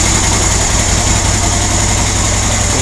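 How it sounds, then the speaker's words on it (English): A QBK Q-Link Tour 250 motorcycle engine sits at idle, a loud, close, steady mechanical chugging with constant vibration and no speech. "The Q-Link Tour 250 running at idle."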